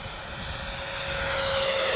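A Freewing MiG-29 Fulcrum RC model jet takes off on medium flaps, its steady high whine growing louder and fuller as power builds, with no voices.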